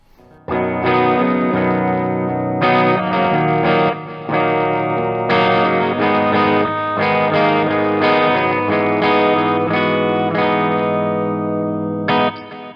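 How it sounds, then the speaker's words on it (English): A sustained, ringing clean-tone electric guitar plays chords, each held for a few seconds before changing, with a chorus-like shimmer. Loud and close, no voices. "this is the first preset, this is the clean tone"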